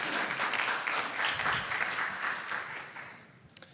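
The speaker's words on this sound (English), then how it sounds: "Round of applause for our panelists here." An audience applauds panelists at an automotive safety and technology conference, a dense wash of clapping that holds steady and then tapers off near the end, with a few stray claps at the close.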